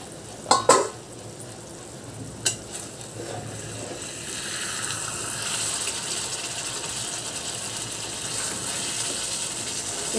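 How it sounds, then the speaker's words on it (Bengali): Chicken being stirred in a cooking pot for a healthy lunch, a few sharp metallic clanks of utensil against pot near the start, then a softer, continuous sizzle and scraping. "একটু এদিক ওদিক করে নাড়িয়ে দিচ্ছি"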